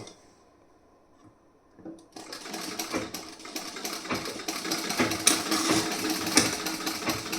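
A sewing machine double-stitches a blouse, starting after a quiet pause with a few clicks, then a rapid, close mechanical chatter that keeps running and grows louder, with no talking.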